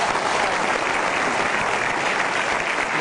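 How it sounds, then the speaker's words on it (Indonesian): Studio audience at the Kick Andy Heroes Award ceremony applauding the jury, a full, even burst of many hands clapping that holds steady from start to finish. "Boleh kita berikan tepuk tangan sekali lagi buat para juri Kick Andi Heroes Award"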